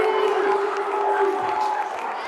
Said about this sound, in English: we can hear the fans behind us. They are not happy about that one.